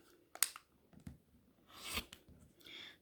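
A folded corner clipper snips off the marked X corner of a fabric block while sewing, giving a few short, close, crisp cutting clicks and snips separated by brief pauses.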